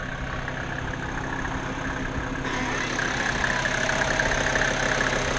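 A Mercedes G-Class 250GD turbo diesel engine, original with a bigger turbo pump added, idles steadily with a low, even rumble and a faint whistling hiss on top, running continuously without revving.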